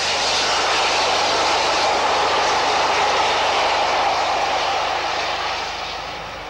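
BR Britannia steam locomotive 70038 hauls a 1967 rail tour toward York, a loud, steady roar of engine and train noise that holds continuously and eases slightly near the end.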